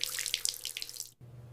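Tap water runs steadily into a sink as soap is rinsed off a face, a bright continuous splashing that cuts off abruptly near the end, leaving a low hum.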